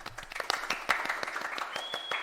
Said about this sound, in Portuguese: Então hoje eu peço uma salva de palmas para nossa parceira sexóloga, a Lu Cabral.